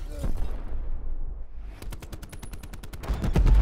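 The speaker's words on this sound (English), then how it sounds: "Then there's this gunship shooting at me." A gunship fires in Call of Duty Black Ops 4, starting after a quieter stretch with a rapid, steady stream of loud shots that grows heavier over other game noise.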